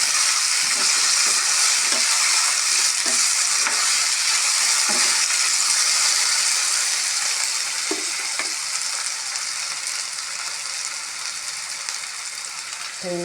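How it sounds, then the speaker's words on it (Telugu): Potato pieces frying in hot oil in a pan, a loud, steady, close sizzle that continues throughout, with occasional soft stirring knocks and no talking. "ఇలా ఆయిల్లో ఫ్రై చేసుకోవాలి ఆలుగడ్డని"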